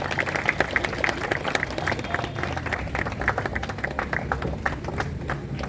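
An audience claps steadily at a celebration inside St. Agnes church. The applause is dense and continuous for several seconds, with faint crowd murmur beneath it.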